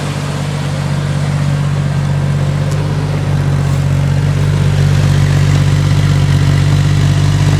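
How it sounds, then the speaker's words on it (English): A straight-six car engine idles smoothly and steadily up close, a deep even exhaust rumble with no revving, sputtering or backfiring. "I'm going to walk around and I'm going to show you so you can hear the exhaust"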